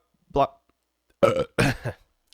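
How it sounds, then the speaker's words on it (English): A man burps several times in quick succession, short loud throaty belches separated by brief pauses. "Gosh, dude, my burps, man."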